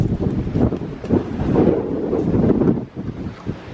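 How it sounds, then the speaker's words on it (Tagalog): Cold wind blows hard across the microphone outdoors, making a steady, loud low rumble that swells and eases for a few seconds. "It's so windy."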